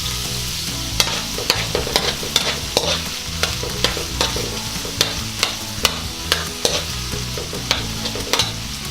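Garlic with red onion stirred and sautéed in a hot pan for beef kaldereta: a steady sizzle runs throughout, broken by regular sharp clacks of the utensil against the pan, close and without talk.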